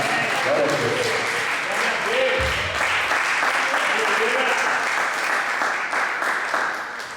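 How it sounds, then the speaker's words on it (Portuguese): Church congregation applauding during an evangelical service, a steady dense wash of clapping that holds loud and unbroken for the whole stretch, tapering slightly at the end. "que as palmas louvem ao Senhor"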